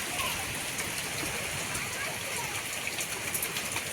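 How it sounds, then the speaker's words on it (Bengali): Heavy rain pours steadily during a night-time nor'wester storm, a dense, constant broadband hiss of downpour at close range with no break across the stretch. "আকাশ একদম কালবৈশাখী নেমে এসেছে, ঝমঝমিয়ে বৃষ্টি"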